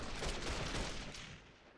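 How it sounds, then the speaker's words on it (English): Sustained burst of video game gunfire in Mafia 3, a dense fusillade of rapid shots that stays loud and close for most of the stretch, then thins out near the end. "Why did I waste my bullets on that?"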